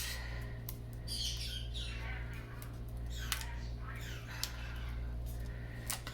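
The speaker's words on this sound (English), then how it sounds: "The bird is doing it again." A pet bird indoors gives repeated short chirps and squawks in scattered bursts over a steady low background hum at a crafting table.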